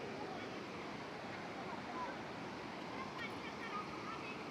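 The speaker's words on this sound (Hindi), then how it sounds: "अत्रि मुनि ऋषि जहाँ रहते हैं वहाँ से ये नदी आती है।" Cold river water rushes steadily past a village near the Anasuya Mata temple, where children bathe; the broad, continuous roar of flowing water fills the whole stretch without a break.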